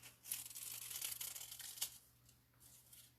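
Scissors cut through a sheet of paper to shape a circle for lining a cake pan, a close, quiet run of crisp snipping and rustling that fades toward the end.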